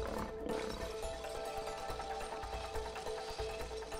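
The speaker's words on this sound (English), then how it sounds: "Lion." Roaring lion sound from a toy in the video game It Takes Two, a continuous loud growl running the full length over a dense game soundscape, with no talk.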